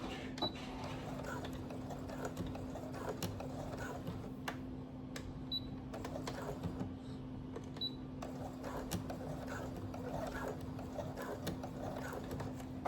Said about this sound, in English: Stitch forward and backwards a couple of times just to secure the elastic.